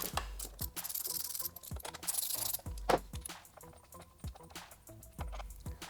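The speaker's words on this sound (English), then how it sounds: "We remove the bolt and the washer." An 8mm Allen key loosening an engine mounting bolt on a 2014+ Yamaha MT-09 motorcycle: close, repeated metallic clicks and scrapes in short irregular bursts, moderately quiet, with no talking.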